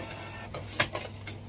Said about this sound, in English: the printer managed to print